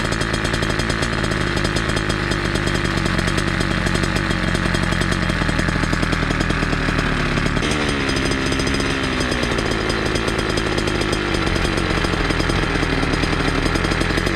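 Small motorized bicycle engine fitted with a cheap chainsaw carburetor runs steadily and loudly up close, a buzzy two-stroke drone with a brief pitch change midway as the idle is adjusted.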